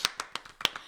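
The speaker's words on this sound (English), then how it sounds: "Let's give him a round of applause" A few sharp hand claps in a quick, uneven rhythm, close and moderately loud, with no talking over them.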